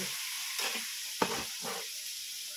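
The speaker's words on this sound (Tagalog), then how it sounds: "Lagay natin yung mushroom habang tumutunaw yung butter" Mushrooms fry in melting butter in a pan, a soft continuous sizzle broken by stirring scrapes and one sharp utensil clink.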